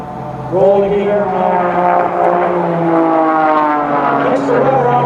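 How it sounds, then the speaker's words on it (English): A propeller-driven aerobatic airplane with an engine of over 300 horsepower climbs out, its loud, steady droning roar wavering in pitch as it passes, with someone talking over it. "Gets the rudder on the airplane, flies it sideways while climbing out."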